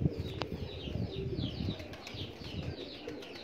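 Pigeons coo in a low, continuous burble, with a few sharp wing flaps and clatters breaking through the steady murmur of the flock at close range.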